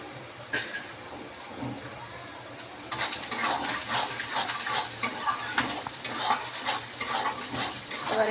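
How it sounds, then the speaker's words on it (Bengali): Greens being stir-fried in a pan with salt and sugar added, quiet at first and then a steady sizzle with scraping spatula strokes from about the three-second mark, close and without speech. "এবার এটাকে একটু ভালো করে ভাজা করে নিই।"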